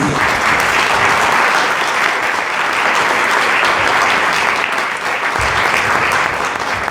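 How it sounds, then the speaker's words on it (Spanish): Audience at a book presentation breaks into sustained applause, a loud, dense and even wash of clapping lasting several seconds without talk over it. "le damos un aplauso también a Pam."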